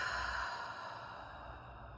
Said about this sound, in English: Taking one more deep breath in through the nose, exhaling through the mouth.